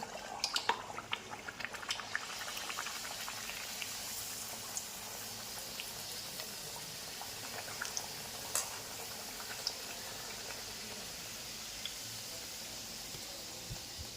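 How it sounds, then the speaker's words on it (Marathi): Spinach puris frying in hot oil, with a steady soft crackle and fine bubbling crackle throughout, plus scattered small pops, moderately close and without talk. "आता आपण तेल पण तापलेलं आहे मी आता तळून घेते"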